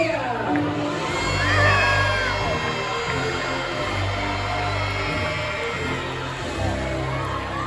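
A crowd at a knights' tournament show cheers and shouts, with children's voices among the steady, loud roar that swells slightly near the start and carries on throughout.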